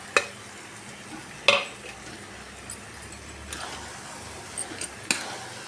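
Stirring khoa into a bottle gourd mixture in a kadhai for barfi: faint scraping and stirring with a few sharp clinks of a spoon against the pan, over a soft background hiss.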